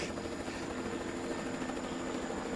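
A helicopter flying above jungle canopy gives a steady, moderately distant rotor drone with continuous broadband whir and no speech.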